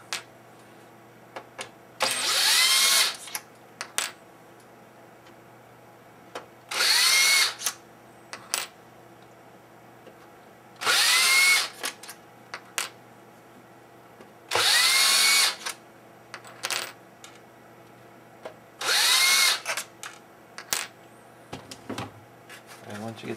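Power screwdriver backing six long screws out of an Xbox console casing during a GPU repair, giving five short whirring bursts spaced a few seconds apart, close and fairly loud, with quiet pauses between them.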